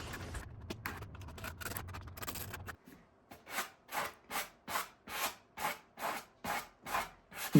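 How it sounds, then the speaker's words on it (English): Sandpaper rubbed along wood with the grain in a steady back-and-forth rhythm, about a dozen even scratchy strokes close up, after a stretch of rougher handling noise. "I start out sanding just fine, with the grain and kind of away from the piece to get the little extras off."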